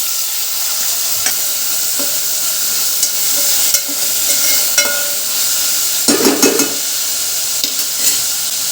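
Tomatoes and spices sizzling loudly in a frying pan with browned onion slices, a steady bright hiss and crackle with occasional stirring scrapes and bursts of spattering.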